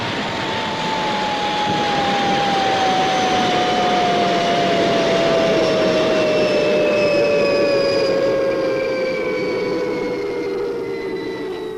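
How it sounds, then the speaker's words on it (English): Retro rockets of the Fireball XL5 spacecraft firing for a landing: a loud, steady roaring rush with a high whistling tone that slowly drops in pitch throughout. "Retros fired. Approaching landing pad."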